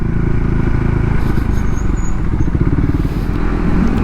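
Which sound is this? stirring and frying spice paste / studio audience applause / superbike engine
superbike engine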